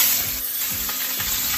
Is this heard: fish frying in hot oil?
yes